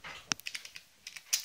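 Close typing on a computer keyboard, a quick irregular run of crisp key clicks with brief pauses, fairly clear with no talking over it.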